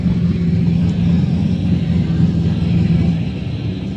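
Off-road race cars at the NORRA Mexican 1000 rumble past, a loud, steady low engine drone with a droning hum that fades slightly near the end.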